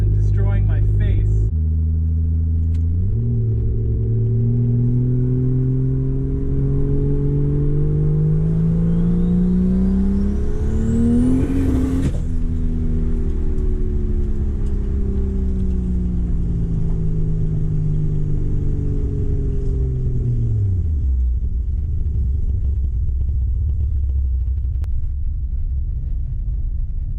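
An overboosted MK4 Toyota Supra Turbo engine drones loudly and continuously while driving, rising in pitch as it revs up, then dropping back, with a low rumble throughout.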